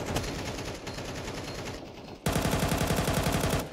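Rapid automatic gunfire from a Counter-Strike 2 match: a dense, sustained stream of shots with no pauses, growing suddenly louder and closer partway through, with no talking.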